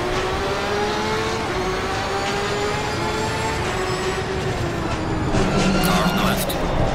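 Race cars in Assetto Corsa Competizione roar steadily at high revs as the field pulls away from a green-light start, a continuous loud engine drone with rising and falling pitch while someone talks over it.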